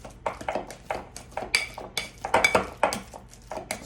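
Ripe bananas are mashed by hand with a potato masher in a bowl, giving a close, steady run of rhythmic knocks and clinks against the bowl, roughly three per second, with no talking.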